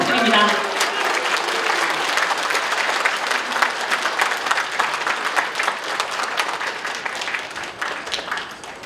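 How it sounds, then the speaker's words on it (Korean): Loud, sustained applause from an audience at a party leadership campaign event for lawyer Kang Shin-up, dense clapping running steadily for about nine seconds before thinning slightly at the end. "강신업 변호사님께 다시 한번 뜨거운 박수 부탁드립니다"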